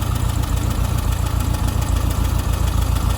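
A Volkswagen Beetle engine runs at raised revs, loud and close, with a fast steady pulsing throb and no other sounds.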